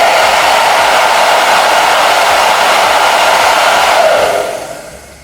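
A hair dryer set to cool and low blows a loud, steady rush of air close by that winds down and fades near the end.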